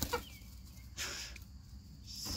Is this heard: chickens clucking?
yes